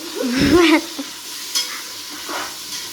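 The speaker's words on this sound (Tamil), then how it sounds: "வெங்காயம் வந்து பாத்தீங்கன்னா நல்லா வதங்கணும்" Onions sauté in a pan toward golden brown for mutton biryani, giving a light sizzle with a few scraping stirs, while a brief clattering knock rings out near the start.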